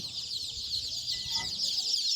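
Native desi chickens cluck softly in the background over a steady high-pitched chirping of chicks on a poultry farm, with a faint murmur of distant voices.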